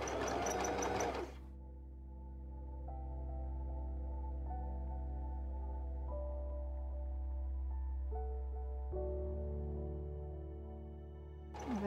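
A sewing machine stitches a dress seam up to the shoulder, running in a steady, close hum for several seconds with slight speed changes, bracketed by brief louder handling noise at the start and end.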